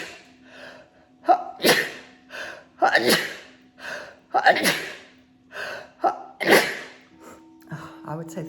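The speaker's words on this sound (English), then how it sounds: "Oh, I have to sneeze." A person sneezes in several bursts, with sharp gasping inhales between them and a faint steady hum underneath.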